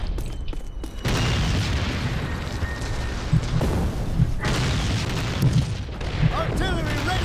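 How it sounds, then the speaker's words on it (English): Artillery shells explode in Call of Duty United Offensive, a dense run of heavy booms and thuds with scattered gunfire layered over continuous battle noise. "Then the artillery falls."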